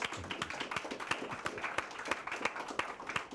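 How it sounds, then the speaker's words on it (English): An audience applauds at a New Orleans interview event, with dense, steady clapping from a crowd that carries on at a moderate level throughout. "a big round of applause."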